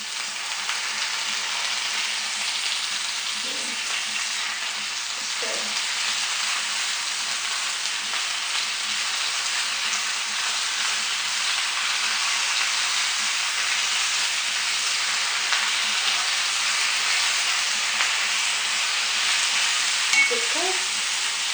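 Bok choy frying with onion and garlic in a pan: a loud, steady sizzle that runs unbroken for the whole stretch, with a few brief low clunks from stirring.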